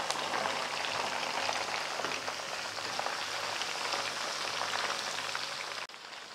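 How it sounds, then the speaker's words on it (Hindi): Chicken frying in well-heated oil, giving a steady, dense sizzle and crackle that stays even throughout before stopping abruptly near the end. "ऑयल हमारा अच्छे से गर्म हो चुका है। तो अब हम चिकन इसमें डाल देंगे।"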